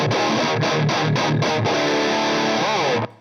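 Electric guitar played through an EHX fuzz pedal blended with distortion, chugging in tight palm-muted bursts with a precise attack, then a sustained ringing chord with slight bend before a sudden stop; loud and close, no talking.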